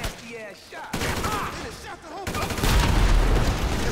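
Rapid gunfire bursts from GTA 5 story mode, with fusillades and automatic weapon fire growing heavier and louder over the clip, mixed with in-game voices shouting over the shooting.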